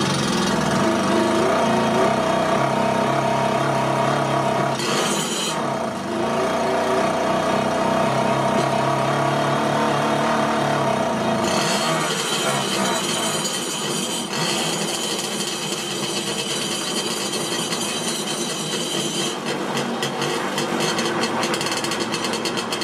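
A Simson SR2 moped engine, hot and under ignition troubleshooting, starts and runs with a steady loud mechanical buzz, continuing for over twenty seconds with a few shifts in pitch and intensity.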